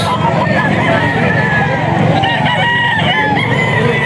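Fighting roosters crow repeatedly close by, strong drawn-out calls overlapping amid clucking and a background murmur of voices.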